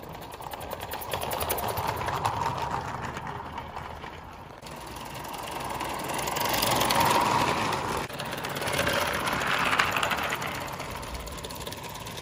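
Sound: live steam Bowman 265 locomotive engine running

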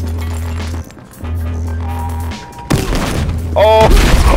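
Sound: frag grenade explosion in video game Battlefield Hardline

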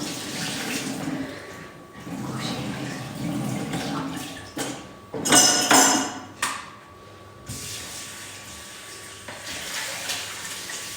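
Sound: tap water running while washing liver

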